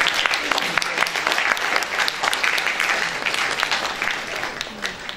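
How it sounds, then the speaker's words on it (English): Audience applause at a literary festival, dense, continuous clapping from a crowd, with faint voices mixed in. "So let's have a round of applause for Bhavan Vidyalaya now."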